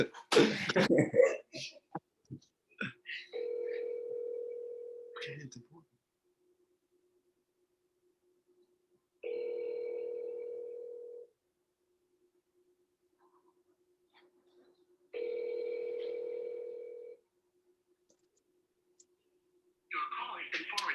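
An outgoing sales call rings unanswered: three evenly spaced ringback tones, each about two seconds long, sound over the line with quiet gaps between them, and a person talks briefly at the start and end.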